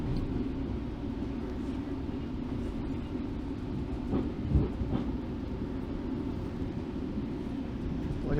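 GO Train riding from Toronto to Brampton, a low steady interior rumble of rolling stock with faint track clatter and a few brief knocks, no talk over it.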